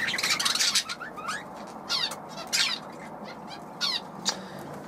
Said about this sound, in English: And there's all the budgies in there, looking excited.